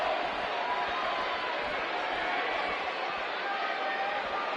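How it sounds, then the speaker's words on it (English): A packed arena crowd at WWE SmackDown roars in a steady, dense wash of cheering and chatter that holds at an even loudness for the whole stretch, with no single voice standing out. "Another electric crowd on hand here for SmackDown, as has been the norm over the years."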